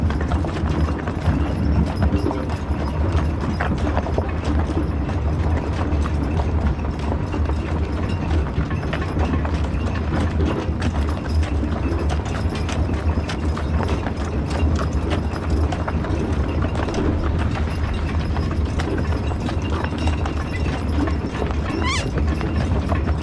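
A team of horses is turned while hitched to lines and an evener, their hooves clip-clopping in a steady, close, continuous rhythm with faint creaks of harness mechanisms throughout.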